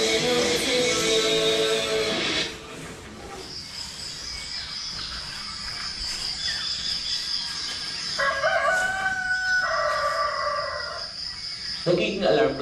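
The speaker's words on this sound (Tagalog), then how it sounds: "Nagiging alarm clock na namin ang tilaok ng manok dito sa amin tuwing umaga." A rooster crows at a rural home in the morning, loud and close at the start, with insects chirping and chickens clucking in the background and a person talking over part of it.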